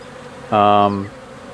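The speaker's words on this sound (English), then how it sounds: "We've got 3 beehives going now. You can hear they're pretty busy." Honeybees buzz around three busy garden beehives in July, a steady harmonic drone that swells loudly for about half a second before fading, with no talking.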